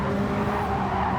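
Race car engine roaring with tyre skid in a GT-class racing video game as a car hits a barrier, a steady loud rush of engine and scraping noise throughout.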